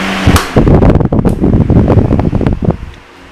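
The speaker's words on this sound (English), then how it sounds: "turn on the fan" An electric fan runs loudly in a warm room, close to the microphone, with a steady whooshing roar and uneven gusty bursts before the sound drops away at the end.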